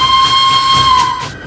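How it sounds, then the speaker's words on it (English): A steam engine whistle blows loud and close, one sustained steady tone lasting over a second before fading off, with a hissing rush of steam beneath it. "Suddenly, the same whistle sounded out, and Henry got yet again scared"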